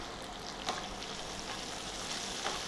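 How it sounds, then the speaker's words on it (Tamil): Chopped small onions (shallots) sautéing in a pan, a soft steady sizzle with a couple of faint stirring clicks, fairly quiet and close. "இப்போ வெங்காயம் வதங்கிடுச்சு"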